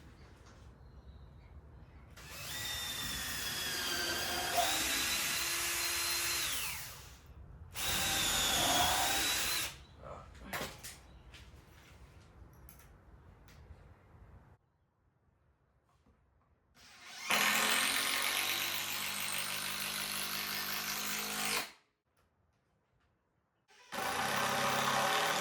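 A power drill drives screws into timber while building a garden workbench, in several loud sustained whirring bursts of a few seconds each, separated by quieter gaps and near silence.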